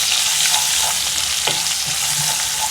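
Green chilies, curry leaves and asafoetida crackling in hot oil in a pan, a steady close-up sizzle with small pops and spatters throughout.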